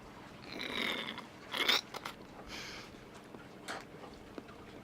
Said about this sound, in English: That's a drink you gotta chew a little bit